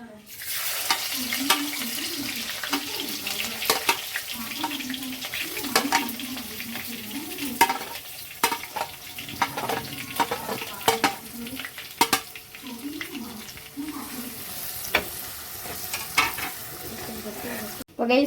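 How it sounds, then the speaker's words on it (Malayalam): Shallots, ginger, garlic, green chilies and curry leaves sautéing in a pan for a fish curry: a steady close sizzle with repeated scraping stirs and light utensil clinks throughout, no talking. "ഇതെല്ലാം കൂടി നമ്മൾ വഴറ്റിയെടുക്കുവാണ്."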